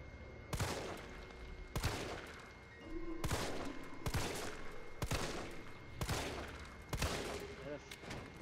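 Repeated loud gunshot bursts in Resident Evil 3, about eight sharp blasts spaced roughly a second apart, with game sound effects and faint background noise between them.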